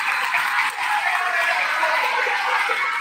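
Steady, dense applause from a school crowd during a Buwan ng Wika celebration, many hands clapping at once at close range, loud and unbroken for the whole stretch.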